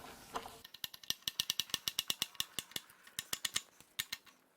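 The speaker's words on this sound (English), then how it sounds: "Now it's time to unbolt the oil pan." A ratchet wrench clicks rapidly as the oil pan bolts come off a BMW N55 engine during a teardown, a close, crisp run of evenly spaced metallic ticks after a brief scrape.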